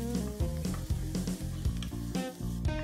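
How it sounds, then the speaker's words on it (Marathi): Two finely chopped onions sauté in a pan, sizzling and crackling steadily up close with occasional stirring scrapes, over a low tonal hum. "कांदा थोडासा परतून द्यायचाय"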